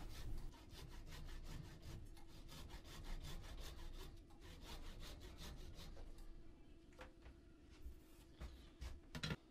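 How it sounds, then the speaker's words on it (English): Ordinary handsaw cutting the end off a walnut bowl blank, rapid rhythmic back-and-forth rasping strokes through wood, close but quiet, continuing throughout. "Finally, just take that end bit off with an ordinary handsaw."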